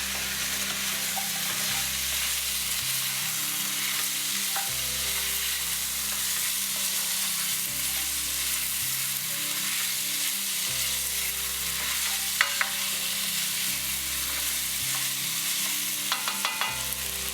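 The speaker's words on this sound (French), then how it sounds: "on va mélanger tout ça" Ingredients frying and being stirred in a pan, a steady close sizzle with periodic scraping stir strokes and occasional light clinks of the utensil, no voices.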